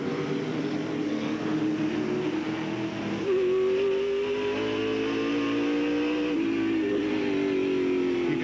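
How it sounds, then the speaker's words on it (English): A Chevrolet race car at Sears Point during the 1995 Budweiser 200, engine roaring loud and close. It drops sharply in pitch at a gear shift, then holds and eases off as the driver lifts off the accelerator. "Shift there, just backed off the accelerator."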